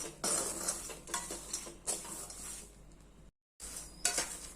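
Peanuts roasting in a pan over medium gas are stirred in short bursts, giving scraping and clinking of nuts and utensil against metal, soft and close, with a brief pause near the end.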